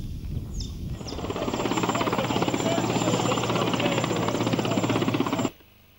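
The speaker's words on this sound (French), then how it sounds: "l'hélicoptère de marque S9 HEA atterrissait à l'escalade de la tribune" An S9 HEA helicopter comes in to land near a grandstand at a Kimbanguist church gathering, its loud rotor chop and engine whine building then holding steady before cutting off abruptly near the end.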